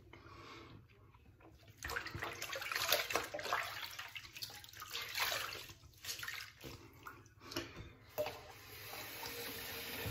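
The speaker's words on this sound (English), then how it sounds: "I'm going to get some hot water, some fresh hot water going here." Hot water running from a tap into a sink at a barbershop during a straight razor shave, a steady broadband rush that swells and dips as the flow shifts, with faint splashing and no talk.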